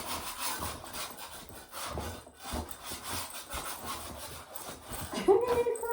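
Scraping during floor demolition, a rough repeated rasping of a tool dragged across the floor in steady strokes, close and fairly loud, with a brief squeak near the end.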